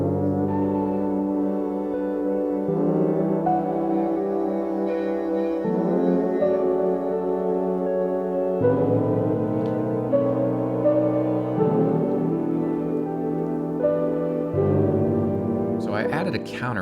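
A mellow lo-fi beat instrument group, a chord progression with a soft, warm sustained textural pad changing chords every few seconds, steady and smooth, ending with a brief bright flourish.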